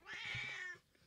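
A pet cat meows once up close, a drawn-out, clear cry that fades into a quiet room.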